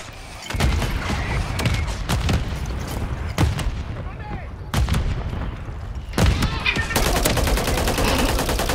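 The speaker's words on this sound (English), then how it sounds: "Mortar strike on the way." Mortar strike in Warzone, a run of sharp booming impacts and gunshots spread across several seconds, ending in rapid repeated fire, loud and close, with some voice chat mixed in.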